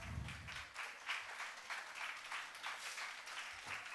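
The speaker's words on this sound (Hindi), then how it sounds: "जोरदार तालियों द्वारा स्वागत।" Audience clapping to welcome a guest onto the stage at a school annual day function in Chennai, steady rippling applause, fairly faint and distant, with no talking.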